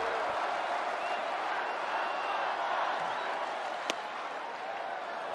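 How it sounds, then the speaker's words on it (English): Packed stands of 40,362 at Petco Park during a Padres versus Reds night baseball game: a continuous wash of crowd noise with scattered clapping and cheering, one brief sharp knock partway through. "Wild one tonight from Petco Park in front of a capacity crowd."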